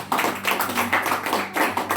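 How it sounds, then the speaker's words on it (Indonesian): A church congregation at a Sunday service breaks into applause: a steady, dense wash of many hands clapping together, fairly loud and continuous for two seconds with no speech. "Beri tepuk tangan."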